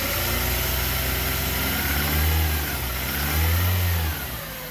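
A Kia Soul engine running after cylinder head repair, idling steadily and close with two brief revs that swell and fade, no misfires, no talk.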